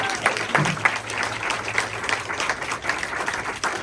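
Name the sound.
audience clapping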